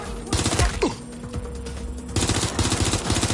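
Rapid automatic gunfire in the video game Watch Dogs Legion, loud dense bursts of shots in two stretches with a brief lull between, with game sound effects mixed in.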